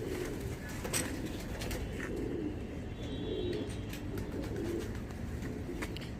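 Soft cooing and low murmuring of several homing pigeons in a loft in Faridabad, India, steady and close, with occasional faint chirps over a continuous background.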